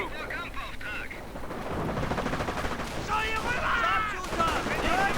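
Sniper rifle and anti-tank gun fire in a World War II strategy game battle: continuous loud crackling gunfire and booming shots layered with whistling, swooping effects, dense and steady throughout.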